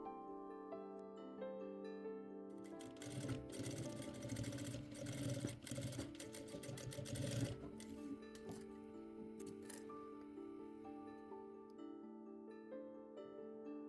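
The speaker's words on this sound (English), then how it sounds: "Stitch twice, once on the center back seam and once 1 centimeter away from it." A sewing machine stitches a corset's center back seam in a close, rattling burst lasting several seconds, set against steady background music.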